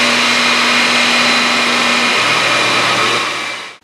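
A Nissan Skyline GT-R engine runs steadily on a dyno, a loud continuous mechanical roar with a sustained low hum, holding constant for several seconds before cutting off abruptly.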